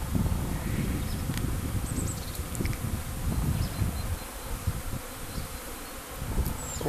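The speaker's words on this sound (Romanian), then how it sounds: "Am o problemă cu albinuțele." Honey bees swarm around beehives, a dense continuous buzzing drone up close, loud and steady throughout with no voices.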